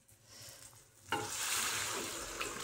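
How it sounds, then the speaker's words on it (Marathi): Tempering for dal hits a hot pan with a sharp burst of sizzling partway through, a bright crackling fry that continues steadily at close range after a few quiet stirring sounds. "आता आपण फोडणीला टाकूयात."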